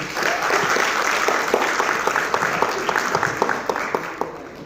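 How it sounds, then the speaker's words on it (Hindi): An audience at a fun event in Lucknow gives a dense burst of applause that carries on steadily, with sharp individual claps standing out near the end. "अगर प्रस्तुति पसंद आई हो तो तालियां बजाइए।"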